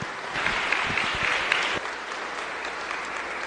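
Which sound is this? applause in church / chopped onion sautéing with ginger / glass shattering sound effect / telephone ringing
applause in church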